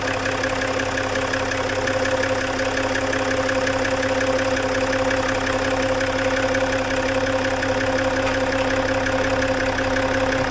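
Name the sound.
Range Rover TDV6 diesel engine idling after injector change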